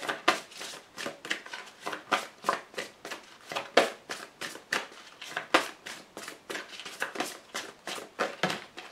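Heavy cards are shuffled by hand at close range, making a steady run of sharp riffling and slapping bursts, roughly two per second, with no talk.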